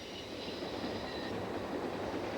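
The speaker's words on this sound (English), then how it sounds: "This renowned train through the Rockies will continue to operate one day a week" Passenger train rolling through the Canadian Rockies, a dense, constant rumble and rattle of railcars with light wheel squeal, close and unbroken, without any talk.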